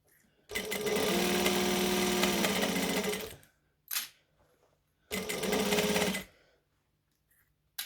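Domestic sewing machine stitching fabric in two runs, a steady whirring motor burst of about two and a half seconds, a short pause, then a second one-second burst, close and clear with no talk.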